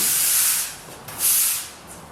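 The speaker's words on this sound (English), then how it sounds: "So here I'm obviously just sweeping the garage, trying to get all the dirt, all the debris into one pile" A broom sweeps dirt and debris across a concrete garage floor in two long, breathy swishes, close and fairly quiet, with no talking.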